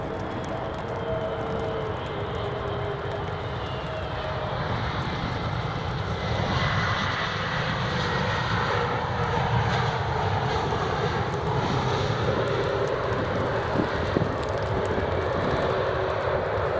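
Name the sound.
British Airways Airbus A320neo jet airliner at Edinburgh Airport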